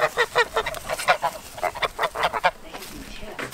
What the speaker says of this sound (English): And the geese are enjoying their new home out here.